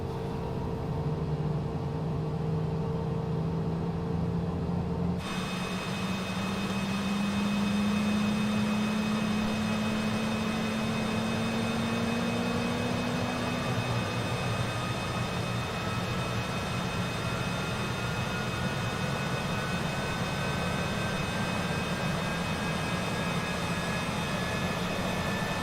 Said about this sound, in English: Alright, so that's one good engine start.